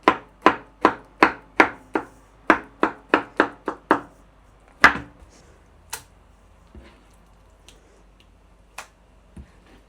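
A knife chops grilled eggplant for a salad in about a dozen sharp, close knocks on a board, rapid at first and then thinning out into scattered taps.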